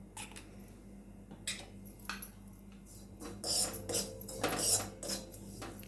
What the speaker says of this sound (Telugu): కొంచెంగా ఇంగువ ఇంగువ వేసి మనము కలిపేసుకోవాలి